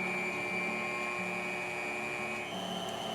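An electric mixer whirs through cake batter of buttermilk and flour for a Kentucky stack cake, giving a steady, close motor drone that holds unbroken for the whole stretch with no talking.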